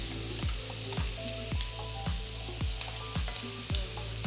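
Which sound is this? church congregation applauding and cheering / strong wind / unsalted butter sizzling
unsalted butter sizzling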